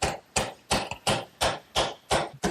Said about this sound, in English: so I'm going to use a mallet to...